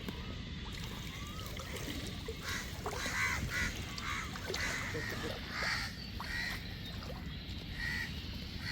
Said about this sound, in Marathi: पक्ष्यांचा आवाज बघताय.